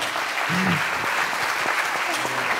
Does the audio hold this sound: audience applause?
yes